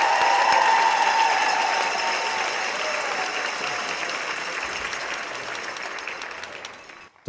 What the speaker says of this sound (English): let's give another big cheer for Sean Barber, number 59.